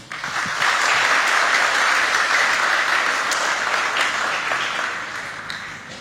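An audience at a church hymn evening breaks into warm, sustained applause, a dense wash of clapping that swells and then slowly tapers, with no one speaking over it.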